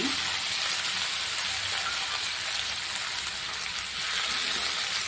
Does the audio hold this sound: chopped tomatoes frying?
yes